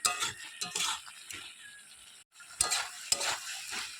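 Potatoes and pointed gourd sauté in a pan, with sizzling and bursts of stirring and clinking from a spatula, briefly pausing before the stirring resumes.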